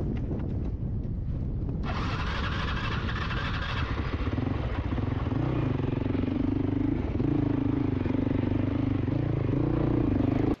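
A dirt bike rides rough Arizona trail terrain, its engine droning loud and close throughout, revving and bogging under steady wind and clatter from the ground.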